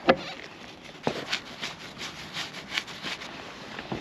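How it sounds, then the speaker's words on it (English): A cloth rubs degreaser over sailboat fiberglass in a series of soft, close scrubbing strokes in a quiet space, with no talking. "I'm gonna degrease the fiberglass a little bit so the epoxy sticks"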